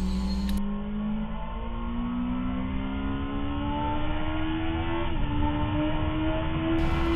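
Motorcycle lapping a race track at a track school, its engine droning steadily and climbing in pitch through the gears, with a shift partway through; loud, close and continuous, with no one speaking.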